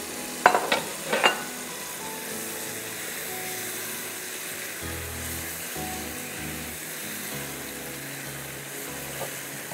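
Boiled beef frying and sizzling in a karahi for a ginger beef karahi, a steady hiss of oil with a few sharp stirring scrapes near the start and soft clatter later.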